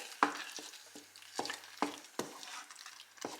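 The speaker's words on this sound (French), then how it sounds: "Je vais venir mélanger un petit peu le tout." A spoon stirs fruit compote sweetened with chestnut jam in a pot, giving about seven quiet, separate scraping strokes at an uneven pace, close by with no talking.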